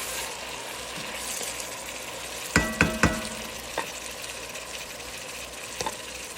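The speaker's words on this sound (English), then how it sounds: "I'm going to add the first half of our tomatoes so they can start cooking down and get some of that liquid to evaporate" Fresh tomatoes cooking down in a pot for homemade pasta sauce, giving a steady low simmer and sizzle with a few sharp clanks of a spoon or lid against the pot in the middle.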